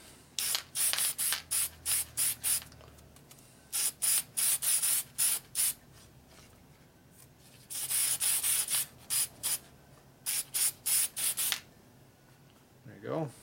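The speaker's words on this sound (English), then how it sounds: "I always spray my gaskets here with the aluminum paint" Aerosol aluminum spray paint hisses onto motorcycle engine gaskets in repeated short, loud bursts, grouped in several runs separated by quiet pauses.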